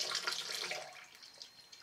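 Hot water runs in a thin stream from a tap beside medium-hard shaving soap paste, a soft steady hiss that fades quieter toward the end.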